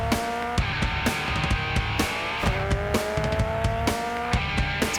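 A race car effect, engine pitch sweeping and revving, sits inside a rock song, layered over a steady beat of punchy snare and drum hits at a loud, even level.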